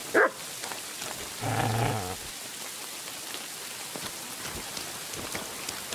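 A dog barks in a monastery in the Kingdom Come video game: one short, sharp bark at the start and a brief, louder burst a moment later, both over a steady rain-like patter.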